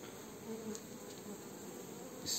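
A steady, faint buzzing of bees hums throughout, with occasional louder passes close by.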